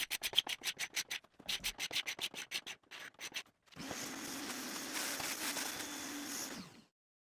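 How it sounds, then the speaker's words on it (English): Rapid, rhythmic scratchy strokes of a scraper on French Provincial bedroom furniture, pausing briefly, then a longer continuous rasping scrape before it stops. "this is the sound of the scraper."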